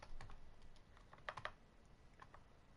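Laptop keys clatter in quick, irregular bursts of close, faint taps, with a couple of sharper clustered presses midway and no voices.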